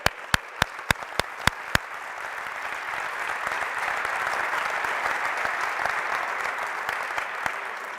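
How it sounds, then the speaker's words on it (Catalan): An audience applauds basketball players at a coaching clinic: a few sharp, separate claps open, then dense sustained clapping swells and holds steady, with occasional louder individual claps standing out. "Donem un fort aplaudiment pels jugadors que ho han fet molt bé"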